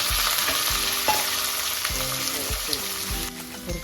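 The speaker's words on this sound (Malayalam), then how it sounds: "എണ്ണ ചൂടായിട്ട് കടുക് ഇടുക." Mustard seeds crackle and splutter in hot oil in a frying pan for a Kerala tender jackfruit stir-fry, a steady close sizzle with scattered pops over a low, regular thudding from beneath, and no voices.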